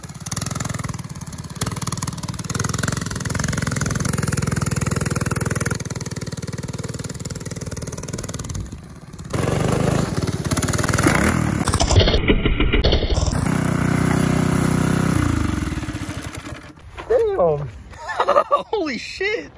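A race go-kart fitted with wagon wheels runs off-road, its small engine droning loudly and fairly close with bumpy, scraping variation. The engine cuts out near the end, followed by voices and rustling.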